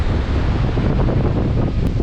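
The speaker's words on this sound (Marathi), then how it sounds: "वारा एकदम जबरदस्त सुटलाय मित्रांनो खतरनाक वारा सुटलाय" Strong wind batters a hill fort, roaring continuously and loudly across the microphone with no pause or let-up.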